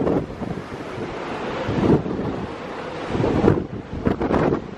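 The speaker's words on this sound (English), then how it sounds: "It's really windy today as we come back" Strong wind buffets the microphone in rough gusts over the rushing wash of choppy sea waves on deck of a cruise ship at sea, with no voices.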